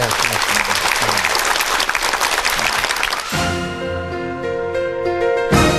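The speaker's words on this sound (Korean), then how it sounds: "힘찬 박수로 강연 청해 듣겠습니다" Loud, dense applause from a lecture audience welcoming a professor to the stage, filling the first three seconds before giving way to a music sting with sustained tones.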